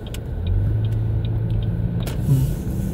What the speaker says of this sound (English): I'm just going to drive around town a few minutes,